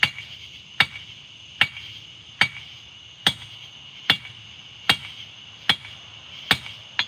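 Hot steel is hammered on an anvil while forging, sharp ringing metallic strikes landing at a steady, evenly spaced pace of about one per second, loud and close over a quiet background.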